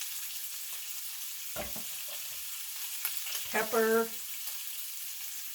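Sausage and onion frying in a pan, a steady sizzle running throughout at moderate level, with a brief voice speaking over it and a stirring or tossing sound near the end.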